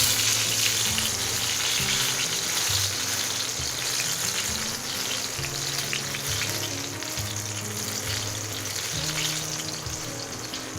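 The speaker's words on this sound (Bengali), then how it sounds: "বেগুন ভাজাটাও হয়ে গেছে অলমোস্ট" Eggplant slices frying in oil left from frying hilsa fish tails, in a Bengali home kitchen: a dense, steady sizzle heard up close, continuous throughout over a faint tonal background.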